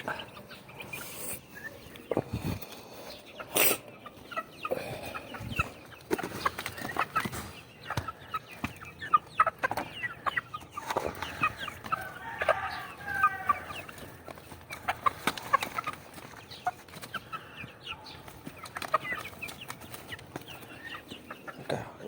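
Pet chicks cheep and cluck repeatedly and closely during feeding, with frequent overlapping calls and some light handling noise across the whole stretch.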